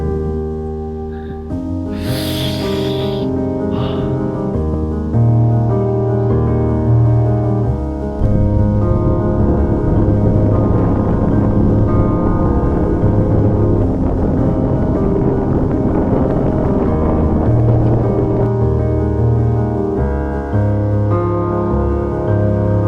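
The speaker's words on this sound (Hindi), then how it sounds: "बहुत ठंडी हवा चल रही है" Cold wind blows across a deep mountain gorge at Chakrata, Uttarakhand, a continuous rushing roar buffeting the microphone for the whole stretch with steady low rumble and no voices.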